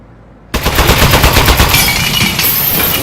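Turret gun firing in Aperture Desk Job: after brief quiet, a sudden loud burst of rapid automatic shots rattles on continuously, close and dense.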